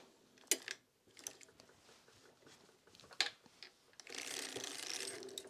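A circular sock knitting machine is cranked through a row of sport weight yarn, giving quiet mechanical clicks and ratcheting ticks with a few sharper snaps, ending in a soft continuous whirring rattle.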